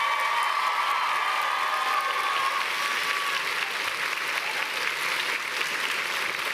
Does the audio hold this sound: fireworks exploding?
no